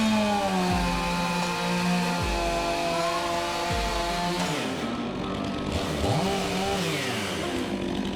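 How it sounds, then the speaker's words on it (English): A chainsaw runs loud and close while felling a tree, its engine dropping and surging in repeated cycles as the chain bites into the stem, with a brief dip before it revs hard again. "I can see the chainsaw's blade much easier when cutting"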